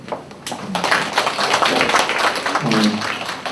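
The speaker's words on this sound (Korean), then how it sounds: "큰 박수로" Audience applause fills a school information session on gifted and science high schools, a dense, steady wash of clapping from a crowd that holds for several seconds with murmuring voices underneath.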